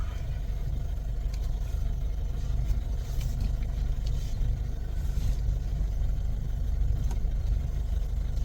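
A car engine rumbles steadily and close while the new car is driven to the rice mill to have rice milled, a continuous low drone with faint road noise and no voices.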